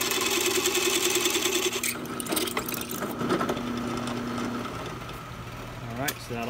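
A power drill enlarges bolt holes in a bracket, a close whirring, grinding buzz that runs loudly at first, then breaks into shorter bursts as the bit works the hole, with speech over it.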